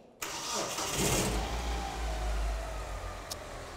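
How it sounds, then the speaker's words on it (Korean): A car engine cranks and catches, then settles into a steady idle, close and fairly loud, with a brief click near the end. "그러고 난 다음에 이제 시동을 한번 걸게요"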